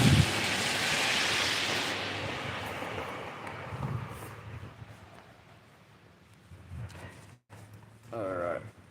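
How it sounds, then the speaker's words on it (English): Wind picking up after a storm blows in a heavy rushing gust that slowly fades, then returns in shorter bursts, with someone talking intermittently over it. "the wind is definitely picking up right here in this area"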